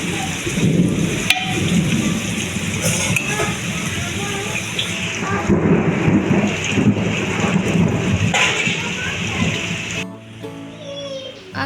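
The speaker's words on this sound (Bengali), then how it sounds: "বাহিরে প্রচন্ড বৃষ্টি হচ্ছে" Heavy rain pours outside a village home during a violent storm, a dense continuous hiss with low rolling thunder rumbling underneath. The rain and thunder are loud and sustained for nearly the whole stretch before easing abruptly at the end.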